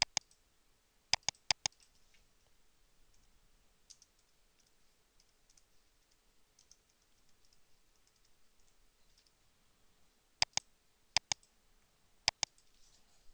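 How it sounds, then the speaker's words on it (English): Sharp computer mouse and keyboard clicks come in quick clusters of two or three near the start and again toward the end, with scattered single clicks in between and near silence otherwise. "You can select more than one standard by clicking Control and then click."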